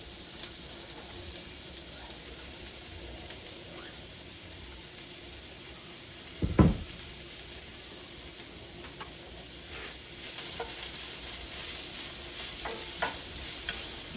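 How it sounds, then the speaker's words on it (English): Onions sweat gently in hot oil over lowered heat for a sausage pasta sauce, making a faint, steady sizzle with one brief clunk midway. "You don't want to brown these onions, you just want them to sweat a little bit"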